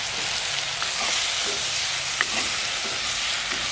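Tomatoes tossed into a pan of frying dried fish for a village-style curry give a loud, steady sizzle, with a few soft stirring clicks over the hiss.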